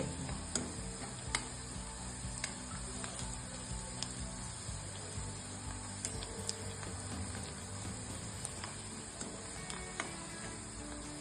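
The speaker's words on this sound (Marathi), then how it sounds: "या पद्धतीने कांदा लालसर करून घ्यायचा. असा पिंक कलर होईपर्यंत परतून घ्यायचा." Onions for dhaba-style paneer bhurji frying in a pan, a steady soft sizzle with scattered clicks of a spoon stirring throughout, fairly quiet and close, with no talking.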